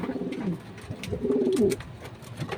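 Racing pigeons pairing off coo close by in a loft, several soft rolling coos in repeated bursts over faint background rustling.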